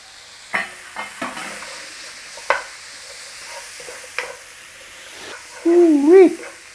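Onion, tomatoes, chili and spices fry in a pan for a keema beef filling, with a spoon scraping and stirring in several sharp bursts over a low sizzle, ending in a louder hiss.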